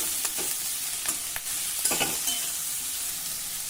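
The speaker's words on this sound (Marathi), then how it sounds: "मेथी दाणे चांगले तांबूस तळले जायला हवे। तांबूस तळले गेले की त्याचा कडवटपणा कमी होतो" Fenugreek seeds frying in hot oil in a pan, a steady close hiss and sizzle with soft stirring scrapes breaking through now and then.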